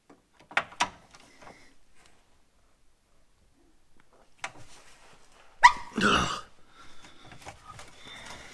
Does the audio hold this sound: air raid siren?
no